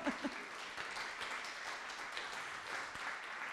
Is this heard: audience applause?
yes